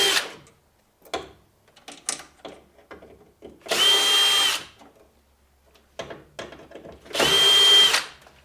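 Two separate bursts of a power drill driving out the screws that hold a keypad to a plastic vending-machine bezel on a Dixie Narco BevMax, each whir steady and close with a high whine, separated by quieter handling clatter.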